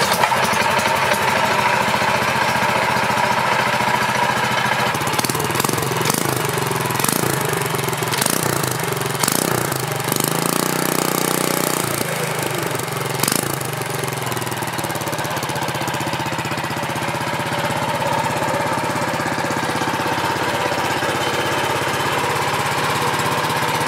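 The small 212 engine on a Mega Moto mini bike runs loud and close, a steady buzzing drone with a stretch of uneven revving and knocking before settling back to a constant idle.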